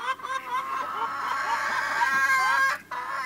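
Backyard chickens and ducks make loud, continuous raspy clucking and squawking up close for a few seconds, with a brief pause near the end, with no talking.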